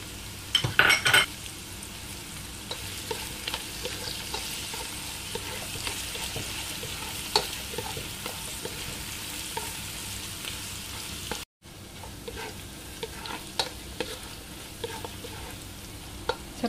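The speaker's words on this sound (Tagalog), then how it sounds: "Lagay po natin yung luya." Ginger sautéed in a pan for papaitan sizzles steadily at low level while a utensil clinks and scrapes against the metal, with a few sharper knocks early on and a brief gap near the end.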